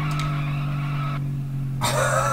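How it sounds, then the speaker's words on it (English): A car in a Sega Dreamcast racing game slides through a drift, with steady engine drone, a squeal of tires, and a brief break before the engine note returns louder. "Let's drift this."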